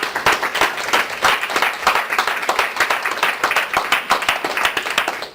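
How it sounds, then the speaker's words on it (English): An audience bursts into a round of applause after a talk, dense steady clapping from many hands sustained throughout, fairly close and loud with no speech over it. "Give Jim a massive round of applause"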